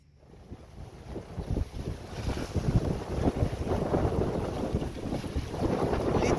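Sailboat under sail off Cap Corse, heading from Corsica toward Capraia in Italy; steady wind rush buffets the microphone over the hiss and slosh of water along the hull, growing louder, with no talk.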